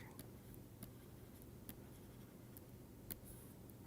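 Handwriting on a board or paper during a maths lecture, faint scattered scratchy strokes and taps over a quiet room hum, close, no talking.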